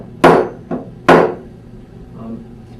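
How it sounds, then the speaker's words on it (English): A hammer taps a wooden picture frame corner into place: three sharp knocks, close and fairly loud, the middle one softer, then quiet room tone. "take your hammer, give it a tap in place"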